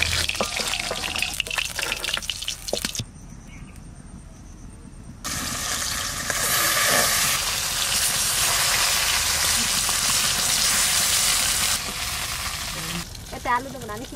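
Pieces of chital fish belly sizzle in hot oil in a pan, a bright crackling hiss that swells loudly after a quieter stretch and continues steadily, broken by clinks as the pieces are turned over.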